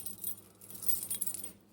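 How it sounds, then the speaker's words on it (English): A ring of vending machine keys jangles close by, a bright metallic rattling that continues in irregular bursts for under two seconds. "These are my vending keys."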